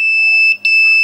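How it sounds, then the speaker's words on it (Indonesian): A shrill electronic alarm beeps steadily at a piercing pitch, briefly cutting out for a moment before resuming, loud and close. "dan alarm akan bunyi"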